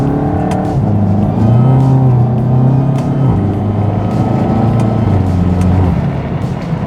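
A Volkswagen MK7 GTI, a Stage 2 build, revs and accelerates hard, its engine note climbing and shifting through gears in a loud, steady drone heard from inside the car with no talk.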